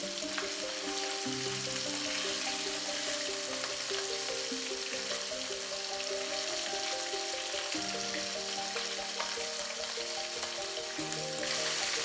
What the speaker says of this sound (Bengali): হাই ফ্লেমে আমি মাছগুলোকে ভাজছি।